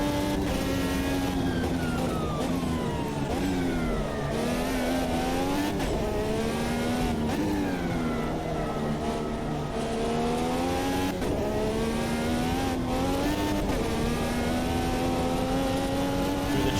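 Simulated IndyCar race car in a racing video game, engine screaming continuously at high revs with rising and falling pitch through gear changes and corners, loud and close with no talk.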